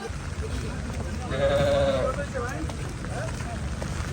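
A goat bleats once, a clear drawn-out cry at a rainy cattle market, rising above a background of voices and market bustle.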